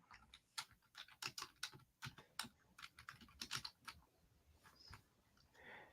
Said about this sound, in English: I heard you typing